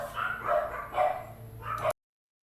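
A few muffled dog barks sound in quick succession at moderate distance before the audio cuts off abruptly.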